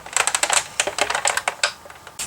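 A manual die-cutting machine with a magnetic platform is cranked by its handle, making a close, rapid run of uneven clicking and ratcheting taps.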